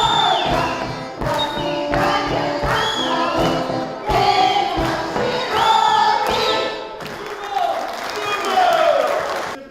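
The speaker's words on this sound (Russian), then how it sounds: "После каждого номера можно было услышать выкрики «Люба»" Cossack villagers at a stanitsa celebration in Chervlennaya clap loudly and shout between performances, with bursts of cheering and group cries rising over rhythmic applause and a few thuds, close and energetic throughout.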